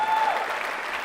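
A short burst of audience clapping at a TEDx talk in Boulder, Colorado, filling the room evenly for about a second.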